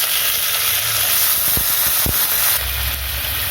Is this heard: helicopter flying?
no